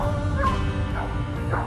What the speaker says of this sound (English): Oh man, my dog's barking!